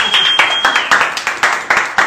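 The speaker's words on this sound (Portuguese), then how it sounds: "Palmas, meninas." A small group claps at a birthday party, a run of about ten sharp, fairly even hand claps close by, with a voice briefly audible under them.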